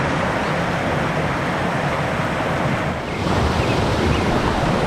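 A river flows below the Gitgit waterfall in Bali in a steady, loud, broadband rush of water that holds constant throughout, with a brief dip near the middle.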